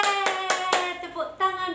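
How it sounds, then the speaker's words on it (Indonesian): Children at a church kids' service clap their hands in a quick, even beat of about four claps over bright, tonal music, then the clapping grows looser toward the end. "tepuk tangan buat semua adik-adik yang sudah berolahraga pagi ini"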